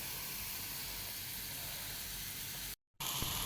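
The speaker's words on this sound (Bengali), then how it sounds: "এই দেখেন আস্তে আস্তে কিন্তু পেঁয়াজগুলো লাল হইতেছে। একদম আস্তে আগুন দিয়ে কিন্তু এগুলো ভাজা লাগবে" Onions and chillies fry slowly over a very low flame for a dried-fish bhorta, giving a constant soft hiss and sizzle with a short gap near the end before it resumes.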